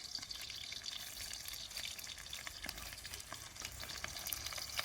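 Sliced onions fry in hot oil in a pan, giving a quiet, continuous sizzle with crackling pops, heard close up with no talking.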